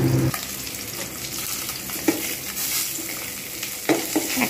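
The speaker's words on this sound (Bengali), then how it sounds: "এক পিঠ করে ভালোভাবে ভেজে নিয়েছি, আরেক পিঠও ভেজে নেবো ভালো করে।" Pieces of pona fish fry in a pan of oil with a soft, steady sizzle, broken by a few brief clatters of stirring and turning, with nobody speaking.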